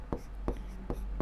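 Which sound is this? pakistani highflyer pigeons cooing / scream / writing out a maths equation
writing out a maths equation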